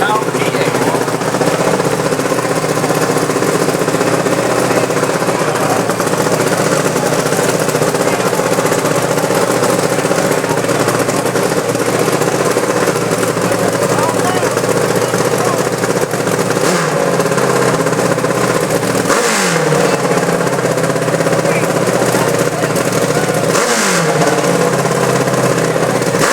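A Kawasaki 124 motorcycle in the unlimited class roars continuously on a big motocross hill climb, loud and sustained with a few revving surges. A loud crowd and announcer-style background noise run throughout.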